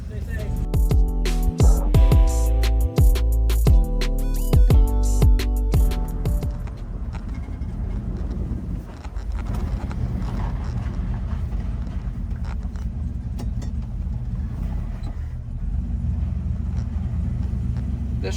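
A 1951 Dodge Pilothouse truck with a turbocharged LS engine swap drives along, its engine making a steady, loud low rumble that carries a tonal droning at first, then settles into broadband road and exhaust roar.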